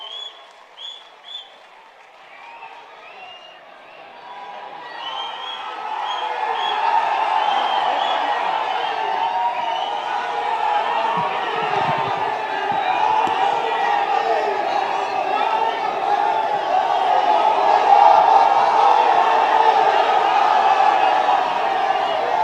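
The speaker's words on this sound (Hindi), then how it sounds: "जोरदार तालियों के साथ राहुल जी को" A large crowd at a West Bengal election rally for Rahul Gandhi in Hooghly applauds and cheers, the clapping building and swelling into a sustained roar with scattered whoops.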